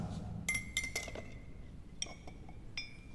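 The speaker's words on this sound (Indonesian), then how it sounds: "masukkan telur ke gelas yang murni tanpa garam" An egg lowered into a glass of plain water without salt, giving a few light, bright glassy clinks against the rim and bottom, close but quiet over a low background hum.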